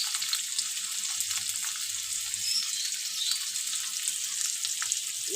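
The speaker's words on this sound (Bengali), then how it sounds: "কড়াতে অল্প তেল দিয়েছি আর জিরে ফোড়ন দিয়ে দিয়েছি, দিয়ে দিলাম পেঁয়াজ কুচি" Chopped onion and cumin seeds frying in a little oil in a kadai, a steady, hissing sizzle at moderate level with faint crackles and a brief low knock, no talking.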